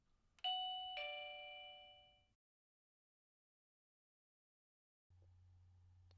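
An OHMKAT wireless doorbell chime plays a short two-note ding-dong melody, bright tones ringing clearly and decaying, followed by silence and then a low steady hum near the end.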